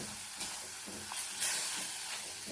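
Chili powder is stirred into a pan as it fries for a Kerala fish curry, a faint, close sizzle with a couple of quiet scraping stirs and a brief hiss.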